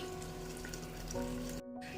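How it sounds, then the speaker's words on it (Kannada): Water is poured into a pot of spiced mutton and rice for biryani, a soft, steady trickle and splash heard faintly close by over a low kitchen hum, with a brief gap near the end. "ನಾನು ಇದಕ್ಕೆ ಈಗ ನೀರನ್ನು ಸೇರಿಸ್ಕೋತಾ ಇದ್ದೀನಿ"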